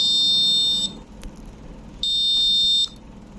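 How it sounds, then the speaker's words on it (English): A high-pitched electronic buzzer sounds in two steady bursts of about a second each, separated by a short pause, over a quiet background. "so to turn off the buzzer, I'm gonna push the button right here"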